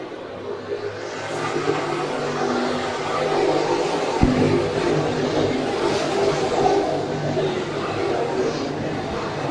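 Race cars lap Brighton Speedway in an auto racing event, a steady broadband engine roar with a sharp transient near the middle, sustained at moderate loudness throughout.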